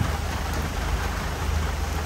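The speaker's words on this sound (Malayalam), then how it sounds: "നല്ല മഴയുണ്ട്" Heavy rain pours steadily in a forest at Thattekad, a dense, continuous wash of drops on leaves and surfaces, loud and unbroken, with no voices.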